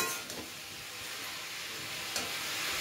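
Chopped onions hiss and sizzle in hot oil in a home kitchen pan, a soft, steady frying crackle with brief swells as they are stirred, heard alone without speech.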